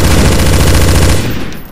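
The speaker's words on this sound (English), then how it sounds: "Shoot zombies quick." Rapid automatic gunfire rattles loud and close in Counter-Strike Source as players shoot zombies in a Zombie Escape mod map, a dense continuous burst that fades out near the end.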